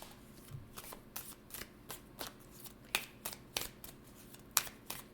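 Tarot cards shuffled by hand, a quick series of crisp papery riffles and taps in a steady rhythm, close and fairly quiet.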